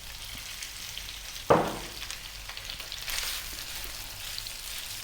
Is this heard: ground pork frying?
yes